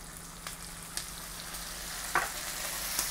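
Butter sizzling and frying in a hot pan with garlic and fish sauce, a steady hiss with a few small pops and stirring clicks, close and alone without talk.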